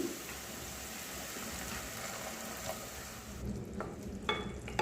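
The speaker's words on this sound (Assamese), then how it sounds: "ইয়াত মই এতিয়া অলপ গৰম পানী দি দিম" Fish curry cooked with elephant apple, stirred in a hot pan after a splash of hot water, giving steady close sizzling and frying hiss with scraping stirs and a few sharper clinks near the end.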